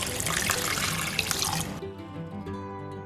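Cold tap water runs loudly into a sink to soak thinly cut cabbage for chicken katsu, a steady rushing stream that cuts off partway and leaves a quieter tonal hum behind.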